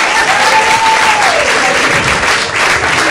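A playhouse crowd gives a comedian loud, sustained applause after a stand-up set, dense clapping close and full with a faint tone underneath, lasting about three seconds.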